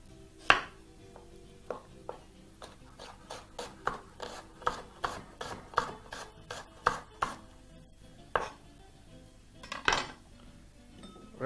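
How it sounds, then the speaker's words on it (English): A knife slices an onion thinly into half moon shapes on a board, a quick run of a dozen or more crisp, evenly spaced cuts with a few heavier knocks, close and clear with no voices. "slide those into some half moon shapes. Of course, slicing as thin as you can"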